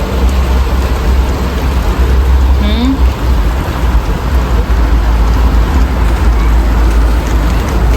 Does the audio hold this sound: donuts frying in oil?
no